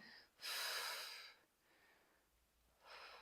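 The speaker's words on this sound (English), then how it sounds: "I'm just over accentuating the breath" Forceful, exaggerated exhales during a rowing move in a pelvic-floor-safe back, shoulder and core workout: one long, loud breathy rush, a faint trailing breath, then a second shorter burst, with no talking.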